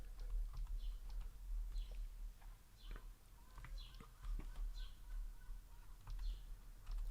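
Soft, irregular key taps on the small keyboard of a Psion Series 3 handheld computer, quiet clicks in short clusters over a low background hum.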